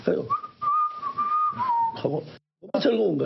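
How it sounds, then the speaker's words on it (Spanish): A person whistles a tune alone, a steady sustained melody that wavers and slides, broken by a brief pause before more breathy whistling resumes. "Y regresé a mi casa muy contento silbando."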